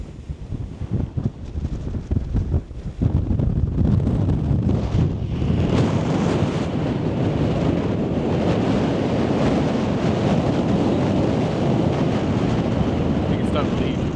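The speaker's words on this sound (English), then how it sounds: "I'm doing my best to block the wind here, but yeah, it's super windy." Strong gusts buffet the microphone outdoors at Swing Arm City in Utah, giving a loud, continuous roaring rumble that dominates throughout, with some choppy, uneven bursts early on before it settles into a steady blast.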